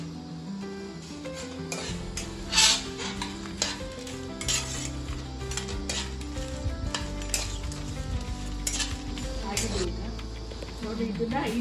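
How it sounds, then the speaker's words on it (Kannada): Mustard seeds and poppy seeds roasting in a pan, with a steady sizzle and crackle and repeated scraping stirs of a utensil against the metal, close and busy throughout. "ಮತ್ತೆ 250 ಗ್ರಾಮು ಸಾಸಿವೆ ಗಸಗಸೆ ಹಾಕ್ತಾ ಇದ್ದೀನಿ"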